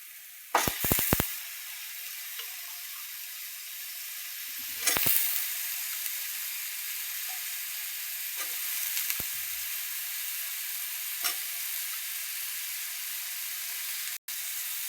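Ridge gourd simmering in a spicy mutton-style curry gravy gives a steady close sizzle and bubbling hiss, broken by a few loud clattering stirs near the start and around five seconds, with no talking.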